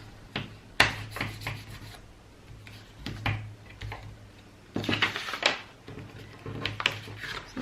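A crayon rubs back and forth over paper to reveal the edges beneath, scratchy bursts of varying strength that come close up and stop and start repeatedly.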